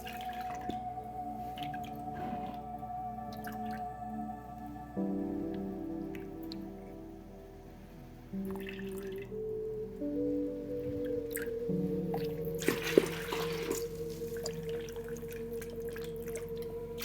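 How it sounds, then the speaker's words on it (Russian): Water drips and trickles from the pot of a freshly watered orchid being drained, soft close-up patters and small splashes over a steady faint background, no voices. "Сейчас мы ей тоже сольем воду."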